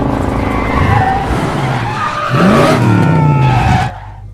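John Wick's favourite car being test-driven hard, with a loud, continuous engine roar and a sustained squeal of skidding tyres that cuts off near the end.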